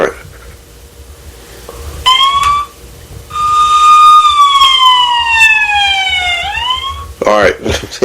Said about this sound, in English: that's the police blotter official siren for, if you can hear that